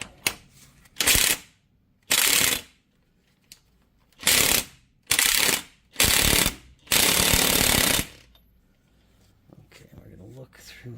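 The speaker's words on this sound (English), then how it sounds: "let's give it a couple hits with the impact gun" Impact gun hammering drive shaft bolts during a universal joint replacement, fired in about six loud bursts of rapid ratcheting impacts, each roughly half a second to a second long, with short quiet gaps between them.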